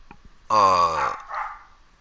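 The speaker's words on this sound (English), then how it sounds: "sorry for my dog" A single dog barks loudly and close, one drawn-out, harmonic bark-howl followed by a shorter, softer trailing yelp, in an otherwise quiet room.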